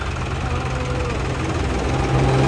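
A tractor engine idles at a farmers' tractor road march protest, a low, steady throb and rumble, continuous throughout and growing slightly louder near the end.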